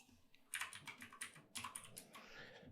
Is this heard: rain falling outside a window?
no